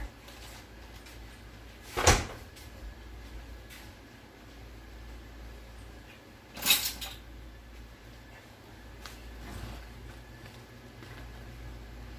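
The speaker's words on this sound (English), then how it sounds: "And close my refrigerator door." A refrigerator door shuts in a home kitchen during dessert making, two sharp thuds about four seconds apart, the second a little softer, over a quiet room hum with light clinks in between.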